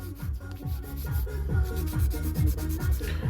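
Acrylic nails being shaped with a 240 grit file, with quick, regular back-and-forth rasping strokes repeating steadily at close range, no speech.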